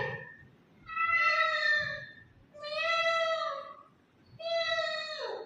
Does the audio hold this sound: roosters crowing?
no